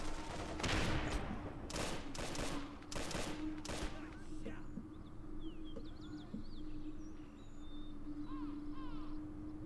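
Gunfire and 2 cm flak in the Robz Mod video game, a cluster of sharp, rapid shots and bursts in the first four seconds, then distant chirping birds over a steady low hum, with faint commentary underneath.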